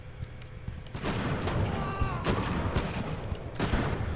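Musket volleys crackle across a battlefield in the video game Ultimate Admiral: Age of Sail, with repeated overlapping shots and dull booms rolling through a dense, steady din of combat noise.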